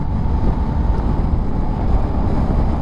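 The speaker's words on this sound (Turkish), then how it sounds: "Kulaklarımın olduğu kısımda rüzgar sesi hissediyorum." Steady, heavy wind roar buffets around a Shark D-Skwall 3 motorcycle helmet at about 70-75 speed, a dense low rumble with no letup and no voices.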